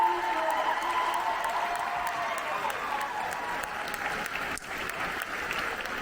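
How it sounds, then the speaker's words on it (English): Convention crowd at a 90s Con panel in Tampa applauding loudly and steadily, a dense wash of clapping with some cheering voices mixed in throughout. "I just want to give a round of applause to this crew and to all of you."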